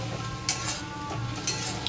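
A soybean kofta mixture with coriander, cumin and chili powder is stirred in a pan, a soft continuous scraping and sizzling close by with a couple of brief clinks from the utensil.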